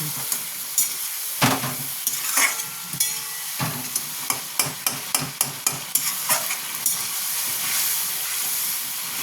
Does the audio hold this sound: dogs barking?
no